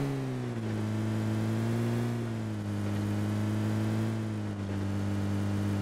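A car engine drones steadily with gentle shifts in pitch, a continuous mid-range motor hum with no talking.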